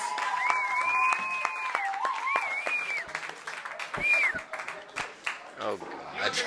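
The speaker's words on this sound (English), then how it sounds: "Look, you're getting applause" Scattered clapping from a small audience at a circus sideshow, a steady patter of claps with a high whistle-like tone gliding above it, close and moderately loud.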